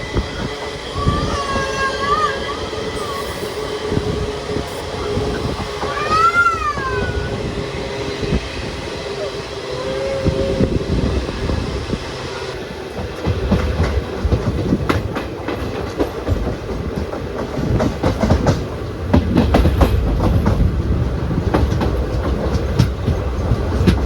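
An Intercity train runs on rails between Mangaluru and Coimbatore, heard from on board as a loud, continuous rumble with rhythmic clickety-clack and a few squealing tones early on.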